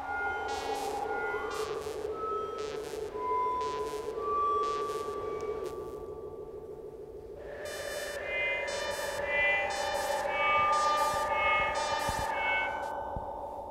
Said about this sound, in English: so this is a sound using a voice delay